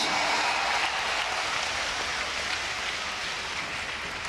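Dense, steady applause from a large audience at the inauguration of Amrita Hospital in Faridabad, a continuous wash of clapping that holds at an even level throughout with no voices over it.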